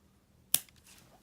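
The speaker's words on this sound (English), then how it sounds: "And then you can just use the scissors" One crisp, sharp snip of scissors cutting through bamboo for a calligraphy pen, close by, followed by quiet.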